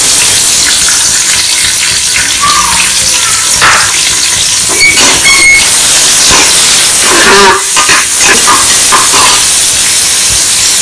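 Sliced onions fry loudly on high heat in a pan for plain biryani, a dense continuous sizzle with scraping stirs and occasional clinks, close and dominant throughout.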